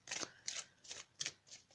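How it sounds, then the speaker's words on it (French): Oracle cards drawn from a deck, five quick crisp papery swishes in an even rhythm, close and alone. "On va tirer maintenant une carte des maîtres ascensionnés."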